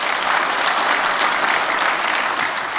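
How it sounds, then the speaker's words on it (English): Steady, loud applause fills a conference hall as the audience claps for a business being honored, a dense even wash of many hands without pause. "round of applause for Hillside Harness"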